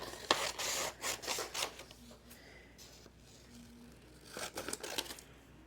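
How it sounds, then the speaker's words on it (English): Scissors cutting a column out of a paper worksheet, giving rustling, rasping bursts of paper and blade near at hand, with a quieter stretch in the middle before the cutting picks up again. "I'm going to cut that first column out"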